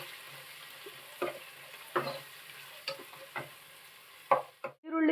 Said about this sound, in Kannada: ಈರುಳ್ಳಿನ ಸ್ವಲ್ಪ ಗೋಲ್ಡನ್ ಬ್ರೌನ್ ಕಲರ್ ಬರುವವರೆಗೂ ಫ್ರೈ ಮಾಡ್ಕೋಬೇಕು.